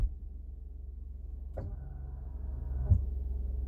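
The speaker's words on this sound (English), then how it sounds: "That noise is the steps folding back up in." Power running boards on a new Ford F150 Platinum fold back up, giving a quiet motor whir with a couple of faint clunks over a steady low idle hum.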